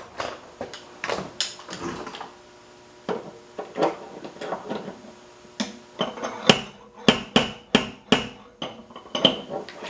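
Light hammer taps on a Subaru car body panel during finesse bodywork, sharp isolated strikes coming in irregular clusters at close range, with some quick runs of rapid taps.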